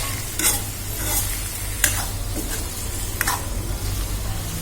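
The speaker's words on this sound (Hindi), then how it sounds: "तो तेल में अच्छी तरह से हिला लिया इसको।" Small fish stirred gently in hot oil during cooking of a small fish curry, giving a steady dense sizzle with a few scraping stirs, close and continuous with no talk.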